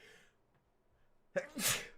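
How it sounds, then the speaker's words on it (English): A single sharp sneeze bursts out after a quiet pause, loud and close. "Had a little sneeze going on."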